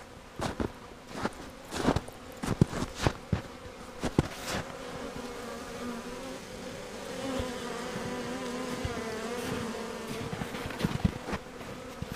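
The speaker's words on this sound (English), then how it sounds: "Flying everywhere, lots of bees" Bees swarm around an active hive, a steady close buzzing drone with individual insects passing near and loud, broken by occasional knocks and handling noises.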